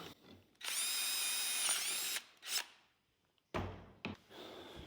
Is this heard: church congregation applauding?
no